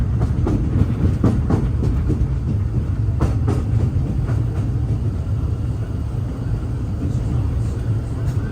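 The Disneyland Railroad train rolls along its tracks with a steady rumble and rhythmic clickety-clack of wheels, loud and continuous throughout, while voices murmur underneath.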